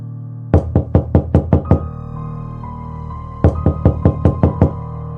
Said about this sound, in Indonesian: Ketuk pintu kamar gua